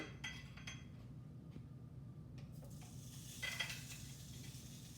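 Quiet sizzling hisses from food on a hot electric grill, with a few light clinks and scrapes of utensils, faint and close.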